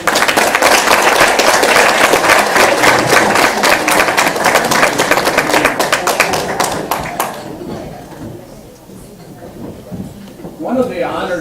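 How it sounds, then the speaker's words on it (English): Applause from the audience at an alumni dinner, a dense, loud crowd clapping for the musicians that holds steady for about seven seconds, then fades out into quiet room noise and murmuring. "join me with a round of applause for our music"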